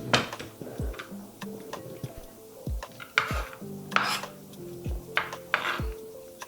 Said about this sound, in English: I'm gonna mix it with the carrot.